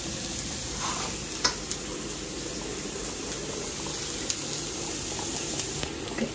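A pot of eggplant kuzhambu curry bubbles and sizzles on the stove in a steady, close hiss with a few sharp pops and clicks; no one talks.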